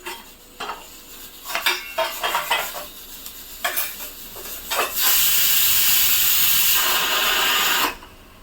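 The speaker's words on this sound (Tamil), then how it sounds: "நம்ம குக்கர் கத்துது அதுக்குள்ளே" A pressure cooker on a home stove while a white peas kurma is being cooked: light clinks of utensils first, then a loud, sustained steam whistle-hiss for about three seconds before it cuts off.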